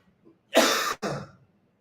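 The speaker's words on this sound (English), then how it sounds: "I currently have the cough" A heavy, raspy smoker's cough: two harsh bursts in close succession, close and loud, with a faint throat sound just before.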